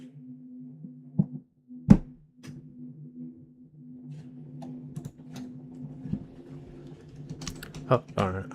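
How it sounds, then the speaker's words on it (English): Bursts of typing on a computer keyboard, with uneven clusters of light clicks and a few sharper knocks over a low steady hum, with a brief louder clatter near the end. "Hold on, I'm just typing a quick DM."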